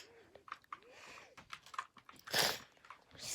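Keys on a GK61 mechanical keyboard click in scattered, uneven bursts close to the microphone, with a louder clatter midway and faint voices in between.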